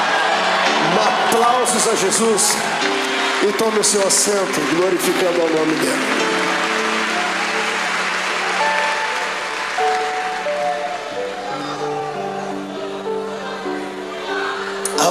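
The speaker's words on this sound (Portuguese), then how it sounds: "Aplausos a Jesus" Church congregation applauding and cheering during a worship service, a dense wash of clapping and shouts that runs the whole time beneath a loud voice speaking and sustained tones.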